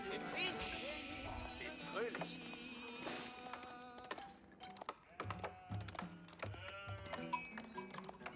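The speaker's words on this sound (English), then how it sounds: "Sheep has been obtained." Sheep bleat repeatedly in Age of Empires 4 amid game sound effects and background music, the wavering cries coming in short bursts at moderate volume.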